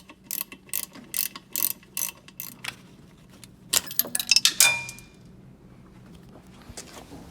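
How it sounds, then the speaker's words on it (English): A ratchet clicks in quick, regular bursts while removing two bolts from the throttle body of a DeLorean DMC-12, followed by a few louder metallic clacks, then quiet. "To remove these 2 bolts from the throttle body"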